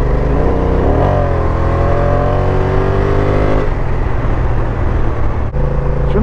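A Honda NT1100 motorcycle engine runs while riding on a damp road on new tyres, with a loud steady drone that climbs in pitch as it accelerates, drops, then pulls again, close and continuous.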